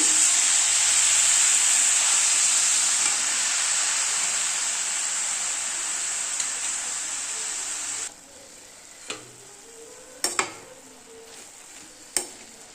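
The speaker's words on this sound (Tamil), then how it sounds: "கீரை போட்டு நல்லா கிண்டிக்கலாம்" Small greens (keerai) sizzle and hiss loudly while being stirred in a frying pan, steady for about eight seconds, then fading to quieter stirring with a few sharp utensil scrapes and clinks against the pan.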